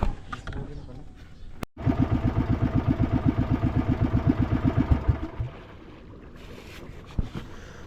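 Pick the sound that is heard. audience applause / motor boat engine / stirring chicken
motor boat engine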